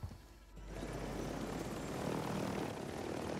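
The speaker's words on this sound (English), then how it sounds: "You reckon I can take that chopper off?" A helicopter takes off in the Warzone video game, with a steady, loud rotor and engine roar that builds slightly and continues without a break.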